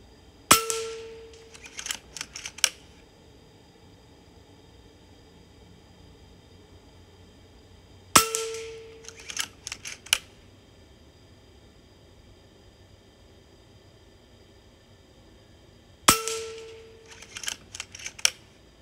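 JTS Airacuda air rifle fires three sharp shots spaced evenly apart, each followed by a quick cluster of metallic clicks and clangs, close and loud against a quiet background.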